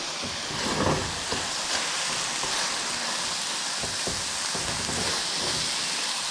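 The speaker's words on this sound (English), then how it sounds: "Give it a little stir." Grated and chunked apples are stirred in a pan, giving a soft, steady wet sizzle and hiss with faint scraping strokes throughout, with no talk.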